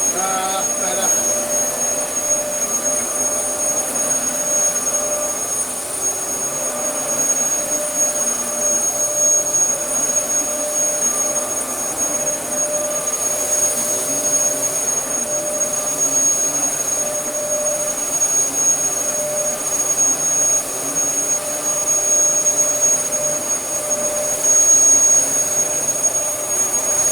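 A Dyson DC14 upright vacuum cleaner runs on carpet, a loud, constant high-pitched whine and airy roar that holds steady without pause.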